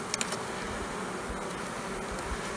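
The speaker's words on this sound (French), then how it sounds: "Je vais écraser les abeilles là-dedans." Honeybees buzz steadily inside an opened hive box during a late-season inspection before wintering, a close, continuous drone with no voices over it.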